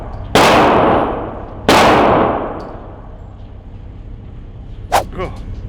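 Two loud, sharp Glock 48 pistol shots about a second and a half apart, each with a ringing decay, followed by a short voice exclamation.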